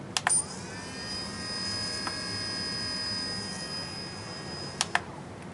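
A single SunnySky X brushless drone motor spins up during output calibration while being checked for a noise issue. It gives a steady, thin, high-pitched whine for several seconds, framed by a few sharp clicks at the start and end.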